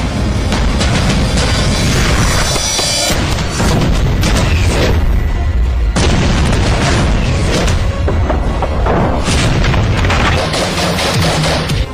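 Loud, sustained bursts of automatic gunfire from Israeli-designed assault rifles, with heavy booming reports and rapid fusillades crowding nearly the whole stretch, briefly dipping before the firing resumes.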